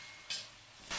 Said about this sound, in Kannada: ಕಡಾಯಿನಲ್ಲಿ ಒಂದು 4 ಟೇಬಲ್ ಸ್ಪೂನ್ ಆಗುವಷ್ಟು ಎಣ್ಣೆ ಹಾಕ್ಕೊಂಡು ಒಂದು 4 ಹಸಿಮೆಣಸಿನಕಾಯಿ, 1-2 ಈರುಳ್ಳಿನ ಸಣ್ಣದಾಗಿ ಕಟ್ ಮಾಡಿ ಹಾಕ್ಕೊಂಡು